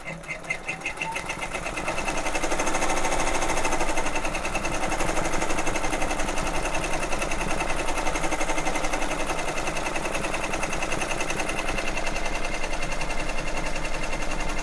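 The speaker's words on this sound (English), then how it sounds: "Let's see if it stitches this time." An embroidery machine stitches a diaper bag held in an embroidery grip, a fast steady mechanical whir and needle chatter that ramps up after a moment and runs continuously, loud and close.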